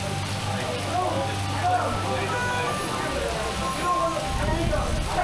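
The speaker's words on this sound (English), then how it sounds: "it's still raining pretty hard" Heavy rain pouring at an amusement park during a storm, a continuous broadband wash of falling water close by with steady low rumble underneath.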